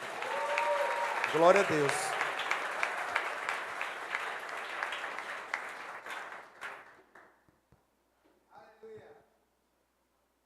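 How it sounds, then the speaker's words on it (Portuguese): A church congregation applauds at a missions service, loud and dense at first with some cheering, then thinning into scattered claps and fading out while a voice speaks over it. "Então, salva de palmas para elas, amém?"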